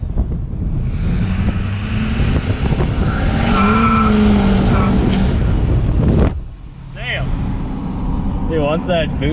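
A turbocharged truck engine roars under hard acceleration with a rising whine and wind rush, then cuts off abruptly, followed by quieter hissing and chirps.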